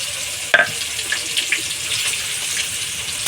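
Onion and garlic fry together in hot oil, making a continuous soft sizzle. A sharp knock comes early on, followed by light stirring sounds, with no voices.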